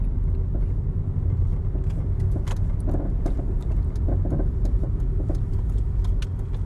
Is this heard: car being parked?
yes